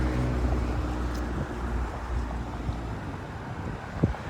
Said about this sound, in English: It's been very windy.